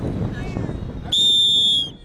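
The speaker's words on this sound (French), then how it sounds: "Coup de sifflet donné." A single sustained shrill referee whistle blast at a school sports championship launch, lasting about half a second, loud and close, over a murmur of background crowd noise.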